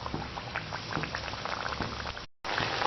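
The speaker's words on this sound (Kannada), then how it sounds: "ನಿಧಾನಕ್ಕೆ ಬಿಡಿ, ಎಣ್ಣೆ ಬಿಸಿಯಾಗಿದೆ. ಇನ್ನೊಂದು ಹಾಕ್ತಾ ಇದ್ದೀನಿ." Maddur vada dough crackling and bubbling in hot frying oil, a dense steady sizzle close by that cuts out briefly near the end before resuming, with no talking.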